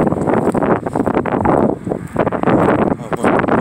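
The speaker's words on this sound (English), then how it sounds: "This wind fucking me up." Strong gusts buffet the microphone outdoors in heavy, uneven rumbling bursts that rise and fall without a break, with a voice muffled underneath.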